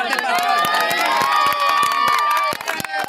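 Lively crowd at a village gathering around a sarpanch election, with bright cheering and shouting voices and rapid sharp claps ringing out over the noise.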